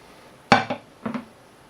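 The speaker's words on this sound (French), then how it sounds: "Puis on retourne le moule avec l'assiette pour mettre notre gâteau dans l'assiette." A metal cake mold and a serving plate are flipped over for a cheesecake: a sharp clink of contact, then a softer knock and a couple of light clatters, close and brief, with no talking.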